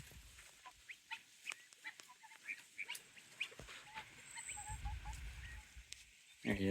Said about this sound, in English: Here's a guinea.